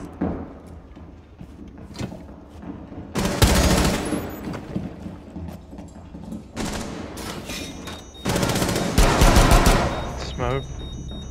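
Gunfire in the video game Rainbow Six Siege, with loud automatic bursts and repeated shots around the 3–4 second and 9–10 second marks, plus scattered mechanical clatter, all under ongoing voice chat.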